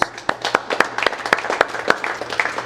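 A church congregation claps in applause, sharp distinct hand claps in an uneven, fairly close rhythm, alone without speech.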